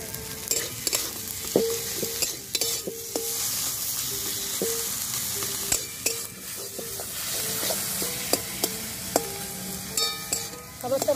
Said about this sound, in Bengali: সুন্দর করে সব মশলা ভালো করে ভাজা ভাজা করে নেবো।